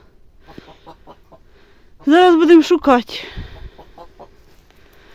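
A hen clucks loudly and close by in a short agitated burst in a hay barn, as if after laying, with a person speaking quietly before and after.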